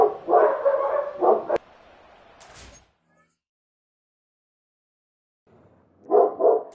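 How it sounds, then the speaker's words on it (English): A dog barks in the background during a Madden 25 Giants franchise gaming session, a few loud bursts close together at the start, then silence, then another short cluster of barks at the end. "Apologize for the barking in the background."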